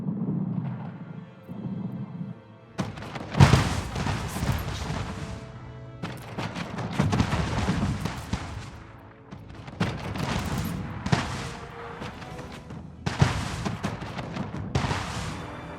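Naval cannon fire booms in repeated loud volleys, irregular and overlapping, during a ship attack in the strategy game Anno 1800, with no talk.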